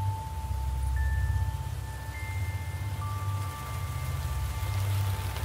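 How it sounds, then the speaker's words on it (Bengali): Steady rain falls as a sound effect in a Bengali village horror story, a continuous hiss with low rumble throughout, alone and fairly loud with faint thin tones above. "বৃষ্টির জলেই আচ্ছন্ন ভাবটা কাটল রজতের।"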